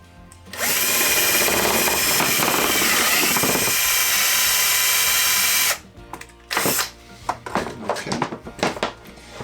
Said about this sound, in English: Let's drill that first hole.